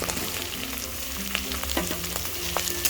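Mango pieces sizzling in hot oil with fried onions for a tangy-spicy pangas fish dish, a steady close frying hiss with small crackles and the soft scrape of stirring, no talk.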